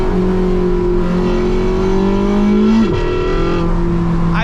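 A Porsche 918 Spyder's engine screams at high revs, a loud steady harmonic wail that holds, dips briefly and climbs again, heard close and alone without talk.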